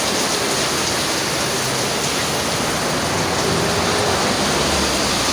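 Heavy rain pours down in a dense, unbroken roar, loud and steady from start to finish with no voices.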